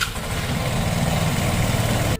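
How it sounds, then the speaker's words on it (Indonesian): A Vespa Sprint Matic scooter idles close by after CVT servicing, a steady, even motor putter with a loud, continuous low throb and no voices. "motor pun menyala normal seperti semula"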